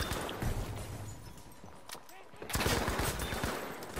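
Gunfire in the World War II shooter Battlefield V, a dense barrage of shots and explosions during an intense firefight, with bursts growing louder toward the end as a player voice talks over it.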